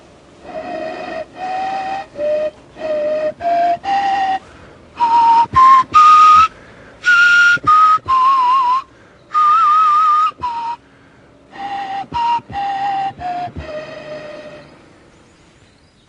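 A reconstructed pentatonic Paleolithic flute plays short melodic tunes, with breathy, whistle-like notes in separate phrases that rise and fall in pitch, close and fairly loud with brief pauses between notes.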